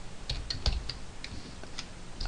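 Computer keyboard typing: scattered quick key clicks at moderate level against a steady low room hum, with no voices.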